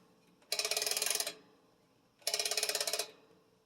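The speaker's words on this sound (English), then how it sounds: "crank the wick control knob" A kerosene heater's wick control knob is cranked clockwise in two separate bursts of rapid, close ratcheting clicks, with a short quiet gap between them.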